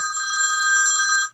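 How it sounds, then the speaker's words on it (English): A mobile phone rings loudly and close by during a studio gear interview, sounding one sustained electronic trill of a bit over a second that cuts off abruptly, with no talking over it. "my phone just started ringing"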